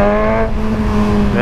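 A Kawasaki Z1000 motorcycle engine revs high, holding a steady, loud tone with strong harmonics, briefly dipping midway before rising again.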